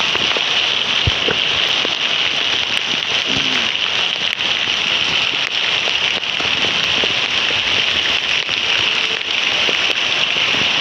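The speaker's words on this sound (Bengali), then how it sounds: "অনেক বৃষ্টি।" A constant roar of heavy rainfall in Dhaka city, thick and even throughout, with occasional sharper drips and taps standing out from the downpour.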